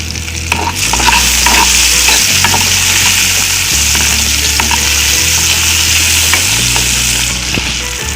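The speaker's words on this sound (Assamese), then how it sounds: "এতিয়া মই বিলাহীখিনি দিম।" Tomatoes tossed into a hot frying pan for an Assamese pasta dish, a loud continuous sizzle with scraping stirring strokes throughout and a low hum underneath.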